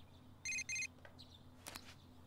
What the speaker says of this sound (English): You received one text message.